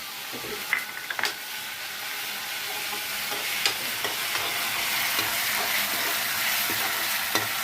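Onion paste frying in oil in a pan for a prawn dish, with a continuous moderate sizzle and several sharp stirring knocks and scrapes early on.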